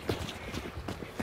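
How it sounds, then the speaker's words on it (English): Horse hooves clip-clop in a video game, a quick run of soft, faint irregular steps over about a second. "Is that your horse? Yeah, it's my horse."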